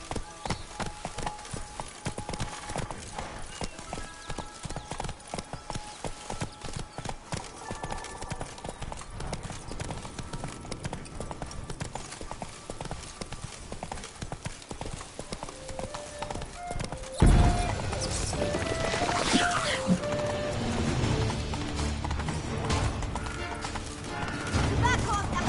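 Roach, a horse in The Witcher 3: Wild Hunt, galloping with steady, rapid hoofbeats. The rhythm shifts abruptly to a louder, busier scene partway through, and voices talk over the game audio.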